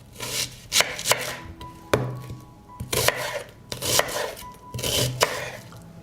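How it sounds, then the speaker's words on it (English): A knife chops an onion into large pieces steadily on a cutting board, a series of sharp, close knocks in an uneven rhythm with brief pauses between bursts. "I will cut an onion into larger pieces."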